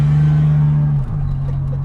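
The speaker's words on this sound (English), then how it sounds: "And we have temperature now, so what we can do is we can actually launch it." A 1993 turbocharged GMC Typhoon sits close by, its engine holding a loud, steady low drone while boost builds against the brake, then the tone drops and shifts abruptly as it launches from a standstill.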